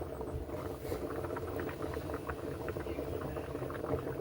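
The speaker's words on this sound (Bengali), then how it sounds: "জল দিলাম" Water is poured into a bowl of ground turmeric, chili, cumin and coriander powder for moong dal khichuri, making a soft, steady trickling and bubbling wash that stays quiet and continuous throughout.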